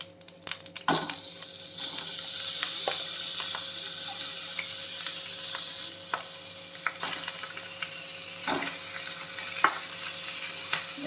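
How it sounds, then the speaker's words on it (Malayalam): Marinated chicken for a chicken curry sizzles in hot oil, a steady bright frying hiss close up, broken by occasional clinks and scrapes of stirring. "അപ്പോൾ നമ്മുടെ ഓയിൽ ചൂടായിട്ടുണ്ട് നമ്മൾ മാറിനേറ്റ് വെച്ചിരിക്കുന്ന എല്ലാം കൂടെ ഇതിൽ ഇട്ട് കൊടുക്കാം"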